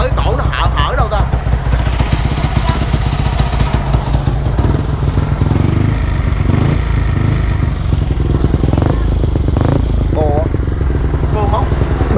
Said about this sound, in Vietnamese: Sao cái tiếng chạch là cái bô móc hay là nó hở cái cổ nó hở đâu ta?